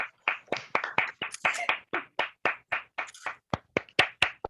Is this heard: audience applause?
yes